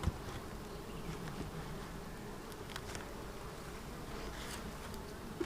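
Honey bees buzzing in a steady, dense drone during a hive inspection, with faint scattered clicks and rustles over the continuous hum.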